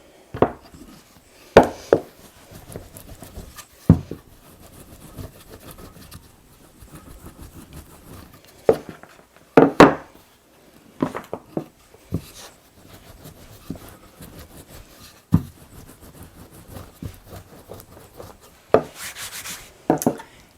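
Rolling pin pressing peppermint patty dough flat on a powdered-sugar-dusted surface, giving soft, close rubbing and scraping strokes with a few sharper knocks and taps spread throughout, no talking.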